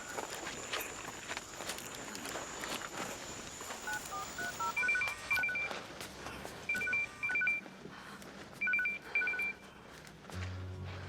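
Several short bursts of telephone keypad tones beep in quick groups, set against a busy background of footsteps and ambient noise.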